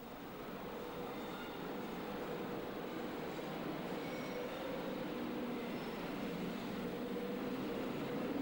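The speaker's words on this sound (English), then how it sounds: "73208, wearing the original Intercity livery, departs London Victoria." British Rail Class 73 electro-diesel locomotive 73208, in original Intercity livery, pulling away from London Victoria with a steady, continuous rumble of wheels and rolling stock, close and sustained throughout, no speech.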